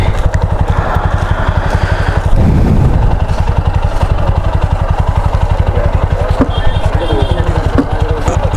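A motorcycle engine idles close by with a loud, even, rapid putter that runs throughout, while people talk over it.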